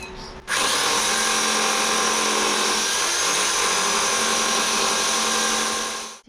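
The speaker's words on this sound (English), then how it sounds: "I'm using my belt sander to tidy up the welds" A belt sander whirs loudly and steadily against welded metal on a Rover P6, starting abruptly and running for several seconds with a slight change in pitch as it bears on the workpiece.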